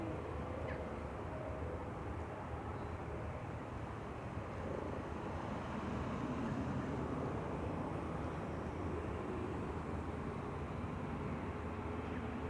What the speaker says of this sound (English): Police helicopter arriving back from its tour of duty.